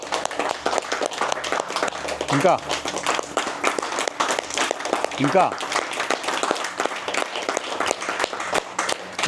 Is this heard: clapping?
yes